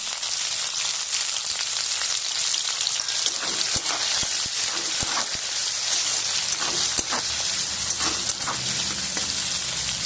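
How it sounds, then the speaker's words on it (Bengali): Chopped onion sizzles in hot oil for a fresh pea ghugni, a loud, even frying hiss peppered with sharp crackles and pops throughout. "তেল গরম হয়ে গেছে, পেঁয়াজটা দিয়ে দিলাম"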